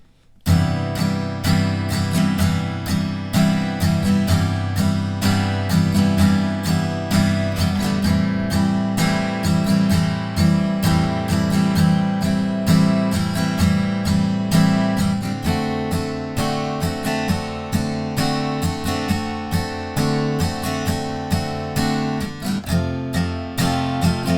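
Steady acoustic guitar strumming runs through a sequence of chorus chords, dense and continuous at close range, with no voices over it.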